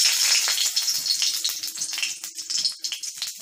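Bay leaf dropped into hot oil in a wok sizzles and crackles steadily, a close, bright frying hiss with small popping bursts throughout.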